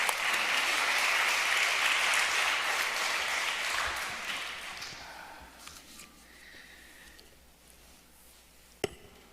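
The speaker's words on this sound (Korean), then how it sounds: "큰 박수로 환영해 주시기 바랍니다." Applause from a church retreat audience at a Korean United Methodist gathering fills the room, loud and dense at first, then gradually thinning and fading out, with a single sharp clap near the end.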